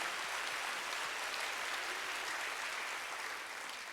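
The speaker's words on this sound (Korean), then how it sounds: "박수로 하나 더 해주세요." A church congregation claps together in a steady, dense round of applause that fades slightly toward the end, with no talking over it.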